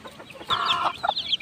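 Young chicks at feeding time give a few short, high peeping calls in a quick cluster, fairly close and clear over a quiet background.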